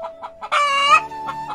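Black Kadaknath chickens in a village yard give close, loud clucks, including one drawn-out rising call in the middle, followed by a few shorter clucks.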